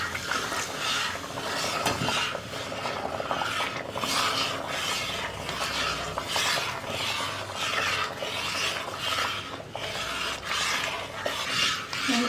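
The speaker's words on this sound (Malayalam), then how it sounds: "വീണ്ടും നമുക്ക് രണ്ടാം പാല് ചേർത്ത് ഇളക്കി കൊടുത്തുകൊണ്ടിരിക്കാം" Pazham pradhaman payasam being stirred in a pot as second coconut milk is added, giving a steady, continuous scraping and rubbing of a spoon against the vessel, close up and without talk.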